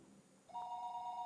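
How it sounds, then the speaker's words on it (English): A game telephone in Higurashi When They Cry starts ringing with a steady, clean electronic tone that begins abruptly after near-silence and holds for about a second. "The phone rang"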